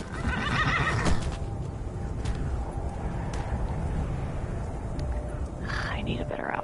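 A horse in the Skyrim video game gives a loud neigh near the start, then hooves clip-clop steadily under a low whisper-like voice and ambient game noise.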